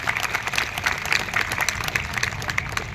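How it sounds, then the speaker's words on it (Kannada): Audience applause at a community gathering in Vidyanagar, a dense, steady wash of many hands clapping at close range for the full stretch, with no talk over it. "ಅವ್ರಿಗೊಂದು ದೊಡ್ಡ ಚಪ್ಪಾಳೆ"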